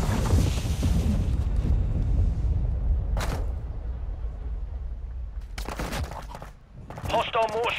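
Explosions and bursts of gunfire in a Call of Duty: Modern Warfare II match, loud rumbling blasts with sharp shots and a brief radio-style voice near the end.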